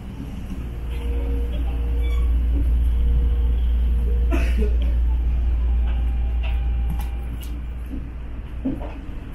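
A heavy low rumble of a commuter train arriving at Jakarta Kota station rolls steadily throughout, with scattered clanks and squeaks as it moves along the platform.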